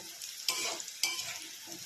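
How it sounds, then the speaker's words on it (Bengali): Onions and garlic frying in a pan for chicken jhol, with a steady close sizzle and two sharp stirring scrapes breaking through the frying noise. "আর রসুনটাও দিয়ে দিয়েছি এর মধ্যে, একটু ভেজে নিচ্ছি।"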